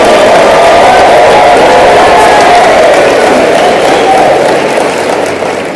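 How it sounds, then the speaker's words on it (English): A large audience at a motivational talk claps and cheers for itself, a loud, dense wash of crowd noise with shouts mixed in, fading slightly at the end. "Give yourselves a round of applause."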